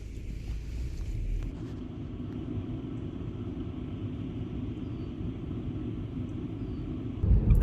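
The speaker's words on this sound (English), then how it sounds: "I'm gonna drive around and look" A car drives along a road in rural New England wilderness, a steady low engine and road rumble with wind buffeting the microphone, ending in a louder gust or bump.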